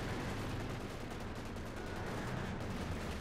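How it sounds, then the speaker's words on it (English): Panther tank machine guns firing in Company of Heroes 2, dense continuous bursts of gunfire in a loud, muddy battle din. "Comes out exposed to the Panther's 3 machine guns, doing quite a bit of damage there."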